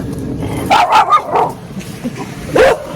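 A dog barks and yips outdoors a few times in short, close bursts, with a pause between the barks.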